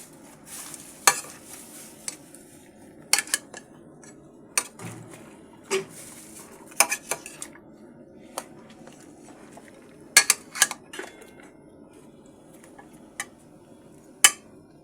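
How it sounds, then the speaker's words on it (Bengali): Ginger-garlic paste is stirred in a pan for a mushroom vegetable curry, with irregular scraping clinks of a spoon against metal over a quiet background sizzle, with no voices. "এখন আমি দিয়ে দিচ্ছি আদা রসুন বাটা, দিয়ে এবার নাড়িয়ে নিচ্ছি।"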